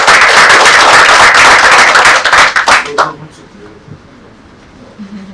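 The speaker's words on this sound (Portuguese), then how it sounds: "Aplausos" Audience applause at a seminar on mediation and arbitration, a loud burst of clapping that fades out after about three seconds, followed by quiet room sound with faint voices.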